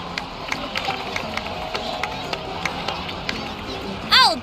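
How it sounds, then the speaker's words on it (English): A crowd in Genshin Impact applauds with steady, scattered claps over a low murmur of cheering and babble. A brief, louder rising sound cuts in right at the end. "please give another round of applause for them"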